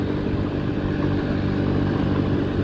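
A small 49cc motorbike engine, bought new in 2022 and nearing 4,000 miles, runs steadily at a constant drone while riding along a gravel road, with no pauses or voices.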